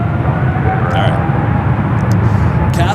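A Cathay Pacific Boeing 777-300ER taxis toward runway 28 Left at San Francisco airport, a steady, fairly loud jet rumble and whine that holds constant throughout.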